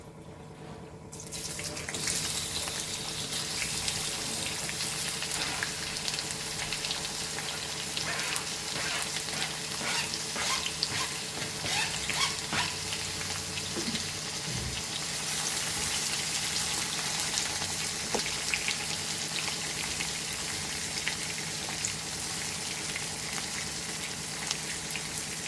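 Onion and chilies fry steadily in a hot pan for a Chettinad mutton curry, giving a loud, continuous sizzle close by with occasional stirring.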